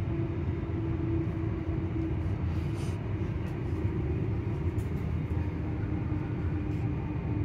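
Steady low rumble and rattle of a train rolling along the rails approaching Livingston South, constant and fairly loud from start to finish, with no voices.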